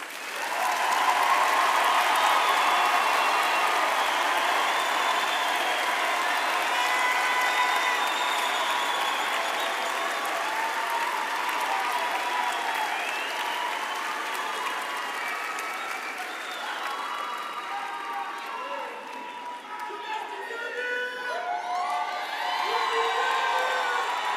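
Sustained applause from a large university graduation audience, steady clapping with a few cheers and shouts mixed in, fading slightly then swelling again near the end.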